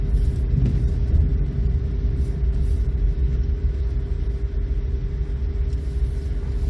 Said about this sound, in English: A view of driving into Brooklands in a 1985 Mazda 626.